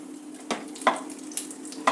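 Cumin seeds and green chillies sizzling in a few spoons of hot oil in a kadai, a soft steady hiss broken by several sharp pops and crackles.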